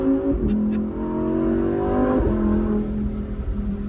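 A Lamborghini accelerating hard, its loud, continuous engine roar close by and climbing in pitch as it pulls, with no one talking over it.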